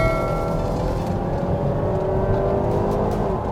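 A Mazda CX-8 engine revving hard under kickdown acceleration, a loud continuous drone with rising tones through an upshift, heard steadily from inside the car.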